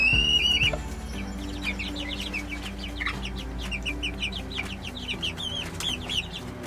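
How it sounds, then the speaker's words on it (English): Chickens cluck in a coop with repeated short calls and occasional higher squawks over a steady background hum, fairly close and with no talk. "So far, so good with the chickens in the coop."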